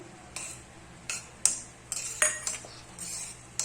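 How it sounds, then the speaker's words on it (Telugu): Dry fruits, almonds and raisins, dropped into hot ghee in a home kitchen pan while making flaxseed laddu: scattered light clinks and metallic taps of a spoon against the pan, with soft sizzling between them and no voices. "ఇప్పుడు డ్రై ఫ్రూట్స్ వేసేసాను."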